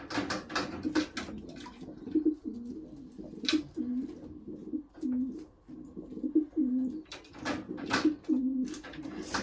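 A racing pigeon cock cooing in a loft, repeated throaty coos in a steady rhythm over nine seconds, close and clear, with light rustling and scattered clicks between calls.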